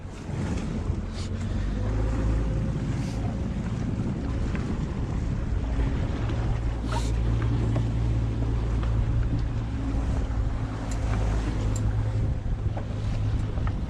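A fishing boat's engine drones steadily on open water, a continuous low rumble blended with heavy wind buffeting the microphone and occasional splashes, with no talk.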